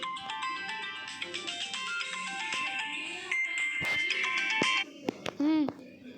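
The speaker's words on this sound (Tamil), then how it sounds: "ஃபோன் அடிக்கிற அப்புறமா பேசுறியா?" A phone ringtone plays a loud, bright electronic melody of rapid repeating notes, ending in sweeping warbling tones, while people talk over it.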